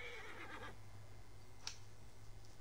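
A horse neighs briefly over a steady hum of ambient noise in Assassin's Creed Origins, a short whinny near the start followed by a faint click, fairly quiet.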